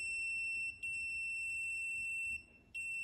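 A steady, piercing electronic tone sounds from an M8000 metal detector's alarm, briefly cutting out twice before resuming, loud and close with no voices.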